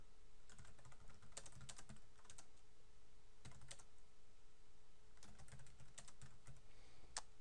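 Quiet bursts of typing on a computer keyboard as a description is entered for a new Google Calendar, short clusters of soft clicks separated by pauses, close and without speech.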